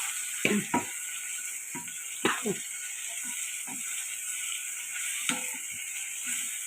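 Fenugreek seeds stirred in a frying pan, giving a steady faint sizzle broken by several sharp scraping clinks of the spoon against the pan.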